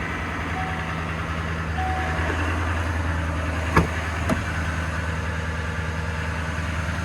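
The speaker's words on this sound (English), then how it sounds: "I hear that diesel." The engine of a 2018 diesel 3600 HD pickup truck idles steadily at an auction lot, a low continuous rumble with a few faint beeps and two brief clicks partway through.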